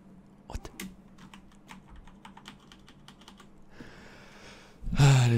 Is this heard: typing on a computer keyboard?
yes